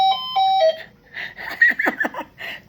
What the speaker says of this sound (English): get ready for this alarm